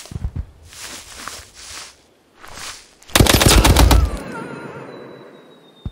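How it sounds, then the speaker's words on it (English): Rapid machine gun fire bursts out loud and close in a combat game battle along the Rhine River, a dense rattling volley lasting about a second after softer footsteps and movement, then fading into echoing ambience. "we got a machine gun up here"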